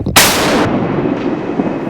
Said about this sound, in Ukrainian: Танк е, влучно зробив три постріла в ціль.